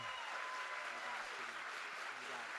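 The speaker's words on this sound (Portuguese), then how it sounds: "Palmas" A live audience claps steadily for a guest welcomed onto the Petrobras stage at a book fair, a dense, even wash of hands that holds at a constant level from start to finish.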